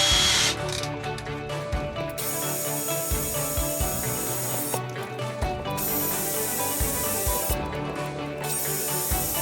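Jigsaw with a sheet-metal finishing blade cutting thin metal on a sailboat, a loud steady rasping buzz broken by short pauses as the blade is nudged forward in small pushes.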